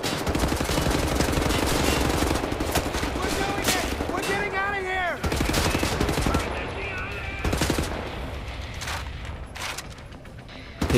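Rapid bursts of automatic gunfire and explosions in the first-person shooter Wolfenstein: The New Order, dense and loud throughout with a brief lull midway, while a voice talks over the combat.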